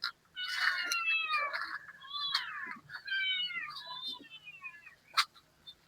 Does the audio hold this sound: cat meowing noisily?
yes